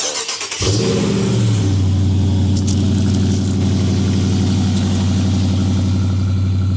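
A 2020 Dodge Charger R/T Hemi V8 fires up with a sharp start burst and quick rev, then settles into a loud, steady, throbbing idle close by.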